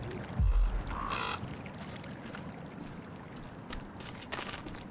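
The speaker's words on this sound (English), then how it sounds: "Where are these birds at?" Bird calls in The Gretlow Tapes, a found-footage horror game set in a haunted house, sound out briefly near the start, with a low thump and then a muffled, echoing ambience.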